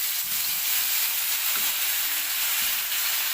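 Ground poppy seed and mustard paste fries in oil already tempered with black cumin, leaving a steady close sizzle with a few soft stirring scrapes and no voices.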